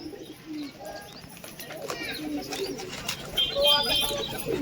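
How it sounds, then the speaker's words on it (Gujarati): Pigeons coo softly nearby in low, throaty bursts, with some chirps and rustling in the background and a person talking over them. "આ કબૂતરા છે આ કબૂતરા ધૂળ પણ ખાય છે"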